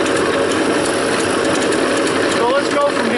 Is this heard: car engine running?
yes